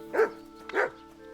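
Two sharp dog barks ring out close together in Kingdom Come: Deliverance II, each a short bright bow-wow over a steady low game hum, followed by quiet ambience.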